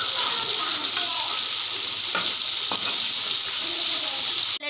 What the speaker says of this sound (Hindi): देख सकते हैं हमारे विंग्स जो हैं वो फ्राई हो रहे हैं